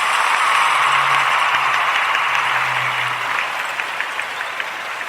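Crowd applause sound effect played on a wrestling podcast, a steady dense wash of clapping and crowd noise lasting throughout, fairly loud and continuous, fading slightly toward the end with a low hum underneath.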